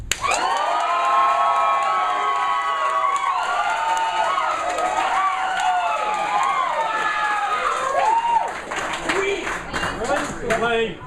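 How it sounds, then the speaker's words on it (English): A theatre audience screams and cheers loudly in a sustained crowd roar, with overlapping high-pitched voices that thin out near the end. "A lot of screaming on that one"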